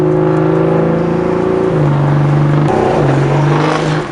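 A BMW M235i engine drones steadily with a rough, uneven whine that shifts pitch partway through, loud and continuous with no talking, from a suspected failing high-pressure fuel pump or ignition coils.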